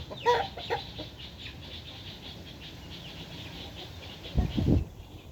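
A fighting rooster gives a few short clucks and throaty calls, fairly close but quiet, with a brief burst of wing flapping or scuffling near the end.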